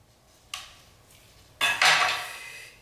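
Knife slicing down through a pear on a kitchen board to core it, two separate crisp cutting strokes, the second louder and longer, close and alone.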